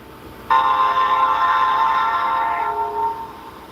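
A train horn blasts suddenly and holds for about three seconds, loud and sustained, then tapers off as the train passes nearby, with no talking.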